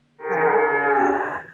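A dairy cow on a farm lets out one long, loud moo close by, rising quickly and fading near the end, with nothing else heard.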